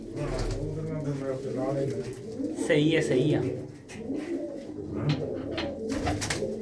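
Soft, repeated cooing of pigeons close by in nesting boxes, rising and falling under and between voices of people talking.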